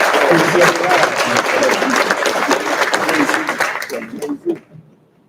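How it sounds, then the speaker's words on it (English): An audience at an official reception claps for the staff, dense and sustained applause with some voices mixed in, thinning out and tapering to a few last claps before falling quiet. "give a big round of applause for all the staff"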